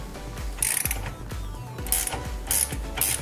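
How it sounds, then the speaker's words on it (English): Small hand ratchet working on tight wheel lug nuts of a Scion FR-S, giving repeated close clicking bursts of pawl clatter in short rhythmic strokes. "we want to see now if we can do them with a little ratchet once you get them loose"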